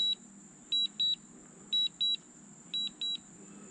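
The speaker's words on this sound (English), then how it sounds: "So you don't have to hear the beeping." A DJI Mavic Air drone controller sounding its return-to-home alert: clear, high electronic beeps in repeating pairs, three double-beep groups about a second apart, fairly close over a faint background hum.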